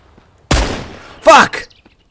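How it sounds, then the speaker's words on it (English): Gunfire in the survival game Mist Survival: a couple of sharp bursts with a ringing tail, one at the start and a double burst about three-quarters of a second later, loud and close, with no speech. "They're shooting things."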